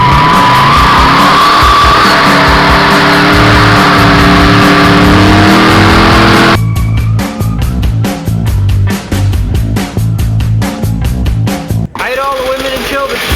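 A loud LS V8-swapped Mazda B2200 race truck on a road-course corner at a raceway heads into the pits, its engine droning steadily before shifting into a choppy, rapid-fire burbling idle with sharp pops near the end.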